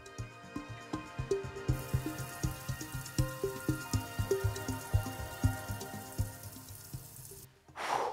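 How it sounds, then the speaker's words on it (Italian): Water from a camper van's portable shower sprays and patters steadily onto a surface, a dense run of droplet impacts that ends abruptly in a short burst of hiss. "Attacco rapido, doccino in posizione, prova pressione"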